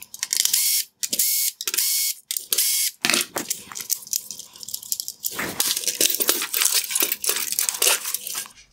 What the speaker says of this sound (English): I will begin by removing the T20 screws holding on the cooling shroud